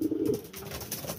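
Racing pigeons give a brief, soft, close coo while they eat, lasting just over a second.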